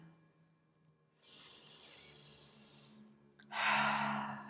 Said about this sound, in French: Je t'invite à faire une grande respiration. Même deux.